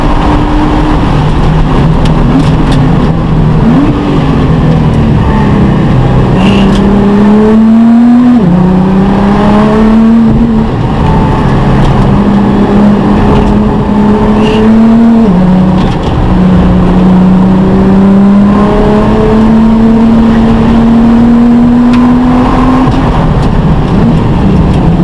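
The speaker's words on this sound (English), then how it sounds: "Temperature in the red. We're gonna try short shifting." A Nissan GT-R races around Bondurant West Track with its engine running hot, rising and falling through repeated short, early upshifts, loud and close throughout, with a steady roar and a recurring rhythm of revs climbing then dropping.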